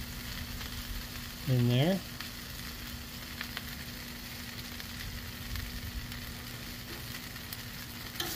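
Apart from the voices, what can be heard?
cheese and green chili brisket frying on a tortilla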